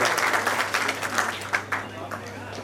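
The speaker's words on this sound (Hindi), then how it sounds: "तालियां बजती रहनी चाहिए, पर बहुत जोरदार तालियां सब लोग।" Applause from an audience at a Saifi Day book launch gathering: a dense, steady patter of many hands clapping for under three seconds at moderate loudness, with a few sharper claps standing out.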